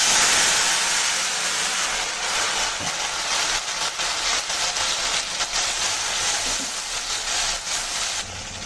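Ginger paste, cumin paste and a splash of water hit hot oil while jackfruit curry cooks, giving a loud, steady hiss and sizzle that fades slightly but continues throughout, with no talking.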